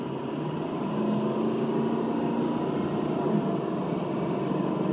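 Ford 6.0 Powerstroke diesel pickup with a sticking turbo accelerating hard: a steady, loud engine drone with a rising whistle from inside the cab, continuous for several seconds.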